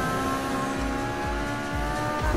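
A car accelerates during a race in the video game Need for Speed Heat, a steady loud engine drone with a rising whine and rhythmic low pulses, close and continuous.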